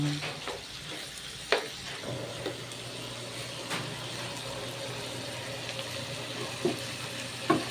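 Ground pork with potatoes and carrots stirs and sizzles in a pan, with a steady frying hiss broken by occasional scraping clinks of the utensil, close up with no talking.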